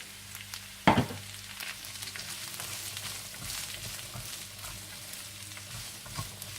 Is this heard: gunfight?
no